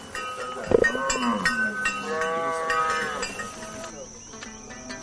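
A herd of cattle on a large ranch lows and moos in long, drawn-out calls, loud and fairly close, with clanking and shuffling mixed in.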